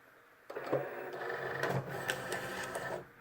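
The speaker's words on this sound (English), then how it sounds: "I'm going to put this inside of my Cricut." A Cricut cutting machine draws a paper-loaded cutting mat inside with a steady whirring motor hum lasting about two and a half seconds, close and moderately loud, with a few small clicks along the way.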